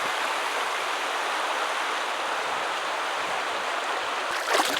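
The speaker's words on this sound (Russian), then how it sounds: "Вот самые-самые последние простенькие порожки, после которых Гридина впадает в Белое море." Water rushing over small, simple river rapids where the Gridina River meets the White Sea, a steady broadband roar close by with no speech and a brief bump at the very end.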